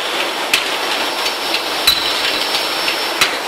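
Blower running on an A4 paper packing machine gives a steady broadband airy hiss, punctuated by a few sharp mechanical knocks from the machinery at irregular intervals.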